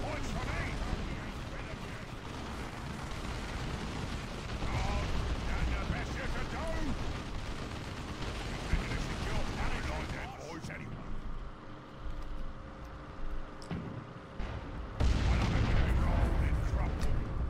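Rocket volley in Dawn of War 2 Retribution: a dense barrage of booming blasts and crackling impacts rolls on continuously, then fades to a lull before a final heavy burst, with a voice talking over it.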